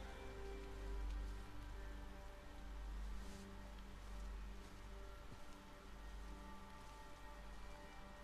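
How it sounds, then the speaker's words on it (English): Steady, dense rainfall from the video game Spider-Man patters on surfaces, a continuous wash of drops with a low rumbling undertone, no voices. "the rain sound is really good"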